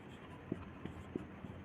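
Writing on a board during a maths lesson: several faint, soft taps and scratches spaced irregularly across a quiet classroom background, with no talk.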